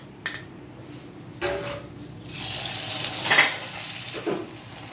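Pakoda batter goes into hot oil in a home kitchen, setting off a rising sizzle and crackle of frying. A few clinks of a utensil against the pan come first, and the sizzle swells and stays close.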